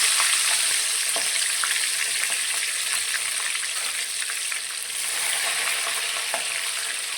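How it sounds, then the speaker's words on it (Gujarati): Lemon pieces sizzling in hot oil, a loud, continuous hiss and crackle with scattered pops throughout, close up and with no voices. "તે આપણે આ ગરમ તેલની અંદર લઈ લઈશું"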